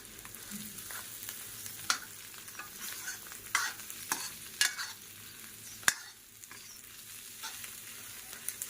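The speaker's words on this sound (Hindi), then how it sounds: "अब ये और अच्छे से फ्राई से होते रहेंगे।" Food frying gently in a pan on low heat in a home kitchen, a soft continuous sizzle broken by occasional spoon scrapes and stirring clicks, fairly quiet and close with no talking.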